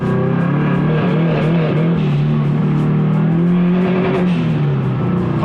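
A turbocharged Subaru BRZ accelerates hard on a freeway: a loud, close engine note climbs steadily in pitch through the revs with a rising drone, continuous and without voices.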